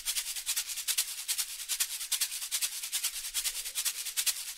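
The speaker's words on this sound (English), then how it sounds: "for this bounce, I added a shaker." A shaker maraca in an Arab-style drill beat plays a steady, crisp rhythmic pattern of bright swishing hits, close and fairly loud, with nothing else underneath.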